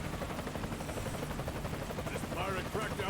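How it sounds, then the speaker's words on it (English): A Blackhawk helicopter in Death Stranding throbs loudly with a dense, rapid rotor chop that runs without pause, with some speech buried beneath the noise. "Blackhawks are loud."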